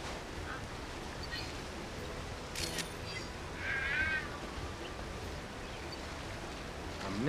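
A cartoon cat meows in a video game, a short bright call standing out midway over a steady busy game background, with a few other faint chirps around it.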